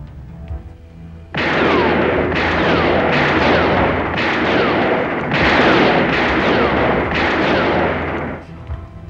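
Rapid gunfire during target practice, a sustained run of loud, close bursts with brief gaps between volleys, heavy and booming throughout, with no talking.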